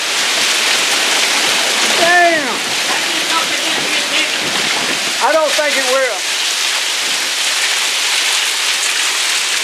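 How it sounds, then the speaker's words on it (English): Large hailstones pound down steadily during a severe hailstorm in Ozark, Missouri, making a loud, continuous hissing clatter that fills the whole clip, with a couple of excited voices calling out over it. "Look at that hail."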